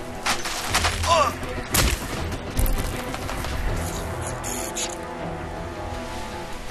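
The K-Volt weapon in Crysis 2 fires in sharp, loud crackling bursts against a steady combat din, with a few heavier hits early and someone speaking over it.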